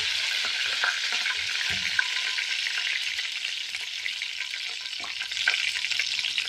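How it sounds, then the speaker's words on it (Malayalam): Curry leaves crackle and sizzle in hot oil in a pan after mustard seeds, for a lemon pickle. A steady, close frying hiss with scattered small pops runs throughout, with no talking. "കറിവേപ്പില ആഡ് ചെയ്ത്"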